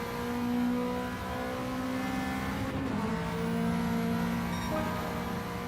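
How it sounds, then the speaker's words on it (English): A Toyota touring race car in a sim racing game holds a steady, buzzing engine note at high revs for several seconds, dipping briefly mid-clip as if shifting before resuming, loud and close with no speech. "Let's have a listen to this car."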